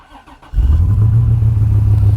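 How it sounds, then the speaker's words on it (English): A car with a six-speed gearbox, left sitting for eight to ten days, cranks and catches after a short quiet moment, then settles into a loud, steady idle close by. "Starts up, no problem. It's a good car."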